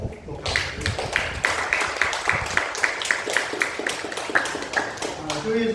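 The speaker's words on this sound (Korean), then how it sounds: "우리 박수로 축하하고 또 감사드립니다." A church congregation claps together in a steady run of hand claps for a couple's wedding anniversary, the sound filling the room with some voices heard over it.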